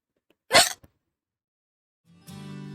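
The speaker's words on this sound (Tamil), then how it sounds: "ஹிக்கப் அப்படின்னு சொல்லுவோம் இங்கிலீஷ்ல, விக்கல்" A single short, sharp hiccup pops out of near silence, followed later by a faint, steady tonal hum.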